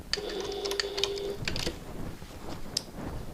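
A home sewing machine set to a tiny stitch length runs briefly, stitching a bag with a whirring hum and a few quick clicks, then stops amid light handling noises in a quiet room.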